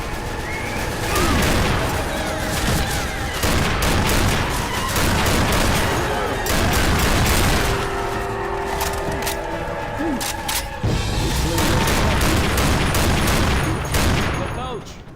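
Dense, continuous gunfire from the zombie shooter Left 4 Dead 2, loud rapid shots layered over game effects and shouting voices throughout.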